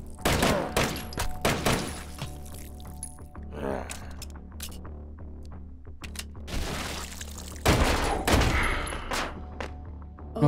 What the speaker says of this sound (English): Another submachine gun.